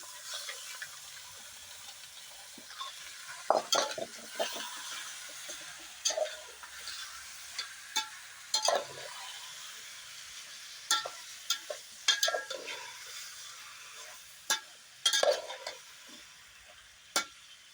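Country chicken fries in oil with onion as it is stirred, a steady soft sizzle broken by repeated sharp scrapes and clacks of a spoon against the pan, close and fairly quiet, no talking.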